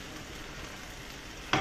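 Steady sizzle of beronok vegetable fritters frying in oil in a pan, a continuous close hiss with a brief louder crackle at the end.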